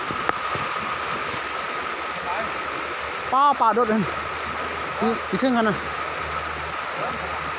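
Flowing stream water, a steady broadband rush filling the whole clip, with people talking briefly over it in two short bursts.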